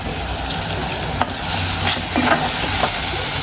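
A paste of green chili, coriander and garlic gets stirred in a hot pan, with a dense steady sizzle under intermittent scraping strokes of a spoon, close and loud with no voices.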